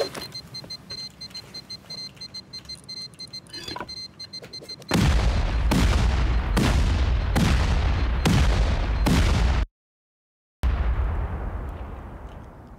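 Explosives blow open a base in a survival video game. After faint ambient rumble, a rapid chain of six loud booming blasts follows in a steady rhythm. A sudden gap of silence comes next, then decaying rumbling echoes.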